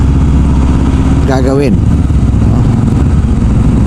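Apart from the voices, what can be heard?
motorcycles passing on the road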